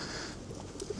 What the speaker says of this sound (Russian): О, голуби.